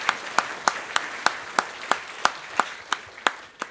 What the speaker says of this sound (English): I think we can have a round of applause for Greeny.